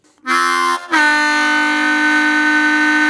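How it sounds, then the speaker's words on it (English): Harmonica playing a whole tone bend on the 2 draw hole: a brief reedy note, a short break, then a sustained, steady bent tone held loud and alone for over two seconds. "and here is a whole tone bend."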